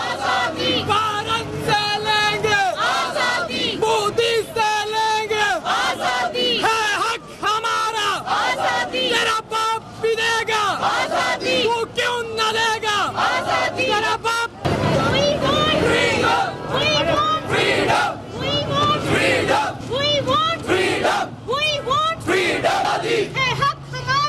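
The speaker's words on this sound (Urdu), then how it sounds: "ریلی کے شرکاء کی بھارت کے ظالمانہ اقدامات اور مسئلہ کشمیر پر اقوام متحدہ کے دوہرے معیار کے خلاف شدید نعرے بازی کی گئی" A crowd at a protest rally in Pakistan against India's actions in Kashmir and the UN's double standards chants slogans loudly in rhythmic call-and-response, voices massed and continuous for the whole stretch.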